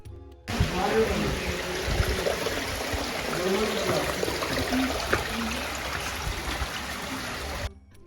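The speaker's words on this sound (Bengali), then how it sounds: "দুই পাহাড়ের মাঝখান দিয়ে সামনে যেতেই পানির শব্দ দিয়ে শুরু হয় ঝিরিপথ" A hill stream flows along the Sonaichhari trail in Mirsarai, Chattogram, with a steady close rushing and trickling wash that runs unbroken for several seconds.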